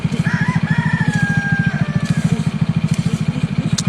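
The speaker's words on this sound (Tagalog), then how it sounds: "kinulong pala ni Cyrus yung isang manok doon." A rooster crows loud and close on a rural Philippine farm, its long drawn-out call ringing over a fast, steady engine-like putter running throughout.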